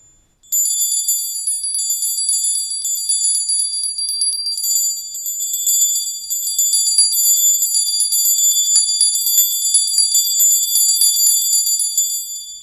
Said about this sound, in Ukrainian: дзвони бувають різні за розміром, різні за звуком